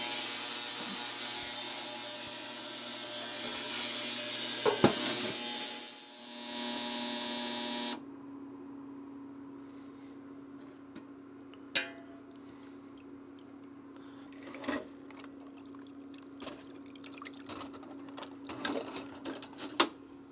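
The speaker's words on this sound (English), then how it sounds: "Just the vibrations here are taking all this junk and garbage out of this carburetor." An ultrasonic cleaner vibrating a Honda CRF250R carburetor gives a loud, steady buzzing hum that runs for about eight seconds and then cuts out. Afterwards only faint clicks and handling noises remain.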